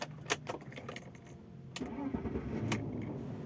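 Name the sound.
BMW E39 520i car engine starting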